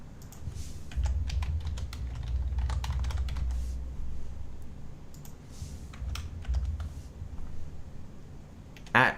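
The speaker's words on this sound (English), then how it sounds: "I just typed in Walnut Trading." Typing on a computer keyboard during a live crypto trading session, with quick clustered key clicks in bursts over a low background hum, close to the microphone.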